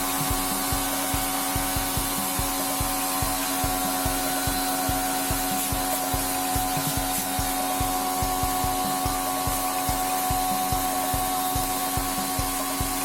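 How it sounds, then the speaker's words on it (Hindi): Pressure water gun spraying a window AC unit during a service cleaning, a steady loud hiss of jetting water over a continuous motor drone with a fast pulsing rhythm, no talk. "इस तरह से प्रेशर गन से पानी डालकर एसी को क्लीन किया जाएगा"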